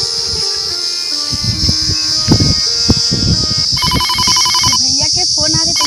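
A mobile phone ringtone plays loudly as a bright repeating electronic melody, starting partway through and continuing to the end, with a voice and background noise earlier.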